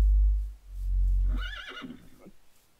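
Horse whinnying once, a loud wavering neigh that rises and trails off after a low rumbling thump at the start.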